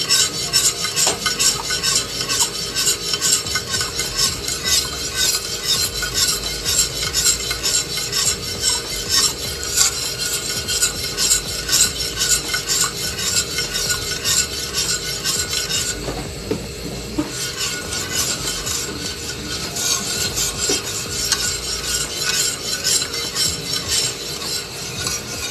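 A spoon stirs a gelatin dessert mixture as it cooks in a pot, making a continuous rhythmic scraping and rubbing against the metal, loud and close, sustained without pause and without speech.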